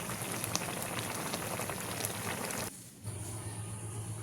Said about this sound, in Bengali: চাপা দিয়ে সিদ্ধ হওয়া পর্যন্ত চাপা দেব